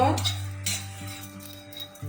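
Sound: cumin and fennel seeds dry-roasting and stirred in a pan

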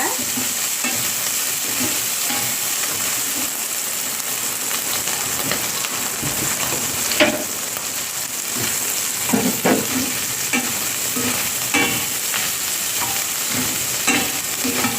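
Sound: chopped vegetables with salt frying and being stirred in a pan

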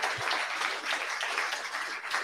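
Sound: audience applause for a team member at BarCamp 2022

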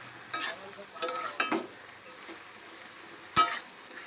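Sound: stirring salt and turmeric into pumpkin greens in pan

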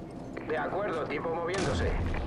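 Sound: 25 mm cannon firing in Call of Duty 4 video game

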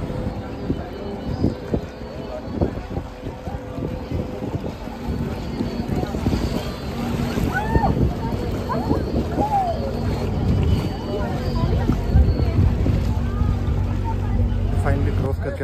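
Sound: boat crossing the Ganges river

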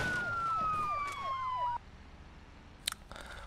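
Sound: police car siren in BeamNG Drive video game

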